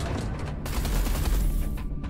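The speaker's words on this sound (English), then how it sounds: "Eduardo, concentrate artillery fire on Blakemore's carrier." Heavy artillery fire during a space battle in the video game Everspace 2, a dense, continuous barrage of booming blasts and crackling shots that swells loudest mid-way, close and loud throughout.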